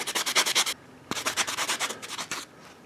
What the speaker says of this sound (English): I like these flexible sanding sponges.